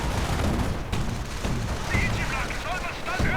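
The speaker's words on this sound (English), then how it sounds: "Auto cannons making very short work of them." Video game battle with armored cars: autocannon fire pounds in rapid, repeated bursts amid a dense clatter of explosions and gunfire.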